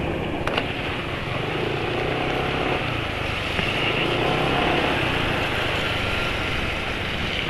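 Motorcycle engine idling roughly on worn Evalube Geo oil, a continuous dense rumble with a harsh, gravelly texture, steady and close with no pauses or talk.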